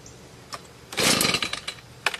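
A cold-started leaf blower's two-stroke engine fires briefly on choke, a loud ragged burst of revving lasting about a second, with a few sharper pops and sputters trailing after.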